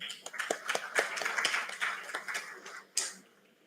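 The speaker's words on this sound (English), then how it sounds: "A round of applause for them also." Audience applause for heads of departments at a BTech orientation programme, a scattered crowd clapping in a hall with distinct individual claps, swelling then tapering off over a few seconds.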